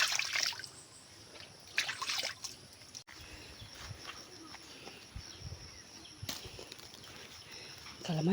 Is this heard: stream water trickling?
yes